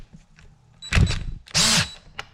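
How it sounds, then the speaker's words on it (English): A power drill in drill setting whirs in two short bursts, the second longer and louder, with brief mechanical clatter between them, close by. "Here, I'll switch it over to the drill setting."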